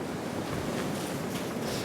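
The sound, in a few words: ocean waves behind the rocks, Siberia surf spot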